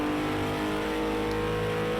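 Sim racing car lapping a track in an esports qualifier, a loud steady engine drone with strong harmonic tones, close and continuous with no voices.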